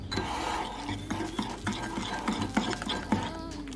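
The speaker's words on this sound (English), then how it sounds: "You mix that all in." Keto chocolate mug cake batter of honey and milk being mixed in a mug, a continuous close scraping stir with rhythmic taps of the spoon against the sides.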